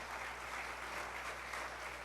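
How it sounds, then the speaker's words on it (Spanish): A church congregation gives praise applause during a Sunday service, a steady, even wash of clapping from a crowd throughout, fairly soft and with no talk over it. "Gracias por darle esas palmas al Señor."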